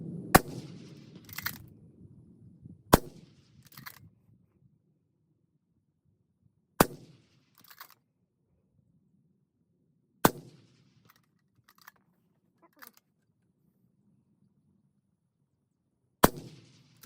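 Five rifle shots from a GA Precision M40A6 crack out one at a time with long irregular pauses between them, each a sharp loud report followed by a short echoing tail and faint clinks of the action being cycled.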